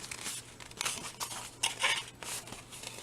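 Paper being folded along scored hinge lines to make a storybook cover, with repeated soft crinkling and crumpling bursts at close range, no voices.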